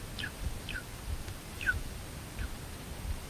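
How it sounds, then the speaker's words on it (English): A wild bird calls outdoors at night in a forest, repeating four short, faint, descending chirps spaced roughly evenly over a low background rumble. "that one's a real bird"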